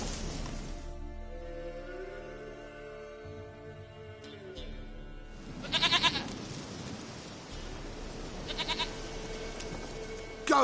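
A goat in The Witcher 3: Wild Hunt bleats in two short, nasal calls partway through, set against a tonal game backdrop with a low ambient drone.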